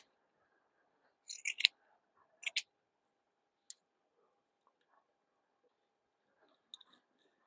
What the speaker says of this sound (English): So I just cut them a little bit smaller and put them in and use them as the stuffing.